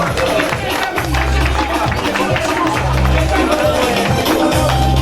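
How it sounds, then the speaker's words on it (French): A conference crowd for the URCIN political party in Côte d'Ivoire applauds loudly and continuously, a dense wash of clapping and cheering with low rhythmic booming underneath. "Je vous demande d'applaudir encore une fois."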